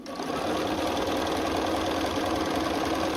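A sewing machine runs steadily for about three seconds, stitching fabric with a fast, even mechanical whir and a rhythmic knocking close by, with no voices.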